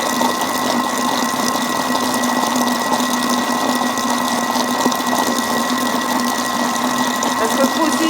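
A Thermomix runs steadily at speed 3.5, whisking cream for nougat glacé with a constant whirring motor hum that stays loud and close throughout.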